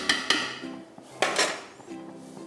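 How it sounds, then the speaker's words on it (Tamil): A lid is set on a cooking pot of kaima kanji, giving a few sharp metallic clanks and rattles close by, with quieter clinks between them. "மூடி போட்டுடலாம்."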